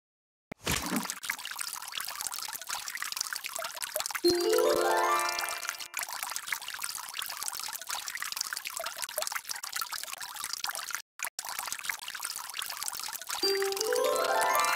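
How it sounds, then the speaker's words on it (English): Watering plants in a Daniel Tiger children's video game, heard as a steady, close, continuous pouring and trickling of water, broken by a couple of bright rising chime jingles and a brief gap. "I'm watering the plants to help them grow."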